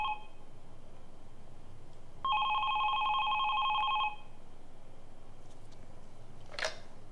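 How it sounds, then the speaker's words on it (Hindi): A telephone rings in a quiet room, one sustained two-tone electronic trill lasting about two seconds, followed by a brief faint click and low background hiss with no talking. "इस वक्त किसका फोन आ गया?"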